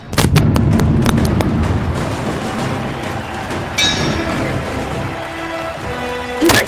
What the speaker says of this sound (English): Scraps delivers an absolutely devastating blow to his opponent